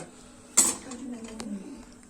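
A pot holding onions is set down on a stovetop with one sharp metallic clank, followed by faint scraping and clinking of cookware, with a person talking around it.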